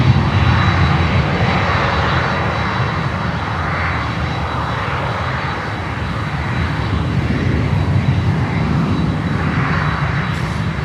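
A close, loud jet airliner roars steadily at Miami airport, where an inbound 321 is arriving, its engines filling the whole stretch with a sustained rumbling whine.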